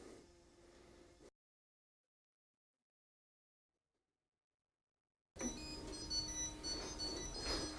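A MakerBot Replicator 2 3D printer gives steady high-pitched electronic beeping tones over a low mechanical hum. The sound stops, goes silent, then returns louder.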